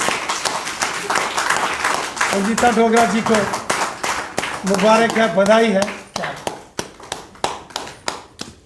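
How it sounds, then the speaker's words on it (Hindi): Loud applause at a party felicitation event at BJP headquarters in Jammu, sharp claps under someone speaking, breaking into separate hand claps at the end. "जोरदार तालियों से"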